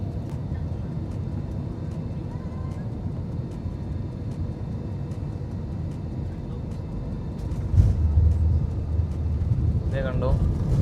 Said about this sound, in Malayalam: ലാൻഡായി വന്നുകൊണ്ടിരിക്കുന്നുണ്ട് ഫ്ലൈറ്റ്.